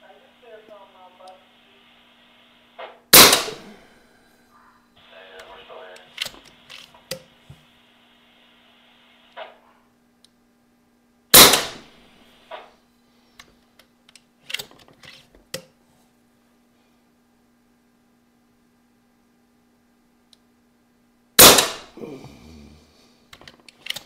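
FX Panthera air rifle fired during accuracy testing: three sharp, loud cracks spaced several seconds apart, each standing alone over a faint radio hum and small handling clicks.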